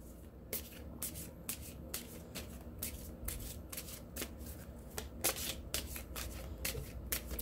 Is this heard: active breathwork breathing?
no